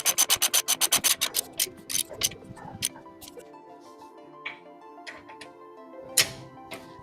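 A small hand ratchet tightens a suspension nut during a Lexus NX / Toyota RAV4 rear spring fit, opening with a fast, regular run of close clicks. Scattered scrapes and light ticks follow, and there is no speech.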